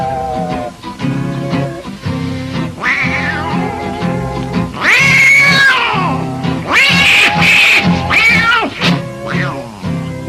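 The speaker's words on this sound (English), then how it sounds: "now that old tomcat started a fight" Tomcats fighting at night, with drawn-out yowls and wailing caterwauls that rise and fall, repeatedly overlapping and growing louder and more frantic as the fight goes on.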